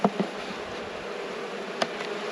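Honey bees in an open rescue hive with a functioning queen and heavy losses, giving a faint, steady hum close by, broken by a few soft knocks and clicks from handling.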